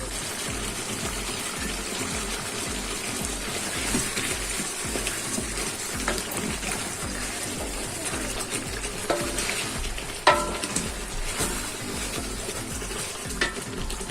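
Chicken and chana dal fry and get stirred in a pot, giving a steady close sizzle with a repeated scraping stir rhythm and one sharper clack near the end.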